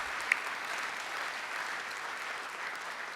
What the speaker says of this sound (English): Let's have a big round of applause for all our member association presidents and the general secretaries.